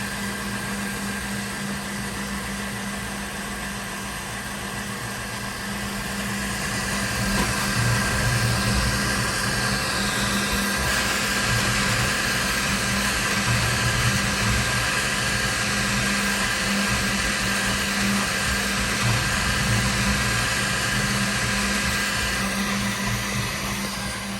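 An Elegoo Centauri Carbon 3D printer running, a steady whirring hum of fans and motors that grows louder partway through, continuous and close with no talk.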